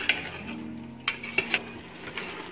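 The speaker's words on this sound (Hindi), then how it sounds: "अब इसको चिकन के साथ सब्जी को ना अच्छी तरह ना भून लेंगे।" Chicken and marrow (koosa) being sautéed in a pan, with soft scraping stirs and a few sharp clinks of a spoon against the metal over a low steady background.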